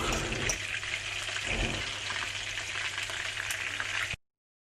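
Shrimp frying in a pan, a steady, close hiss of sizzling fat with no voices over it, stopping abruptly near the end.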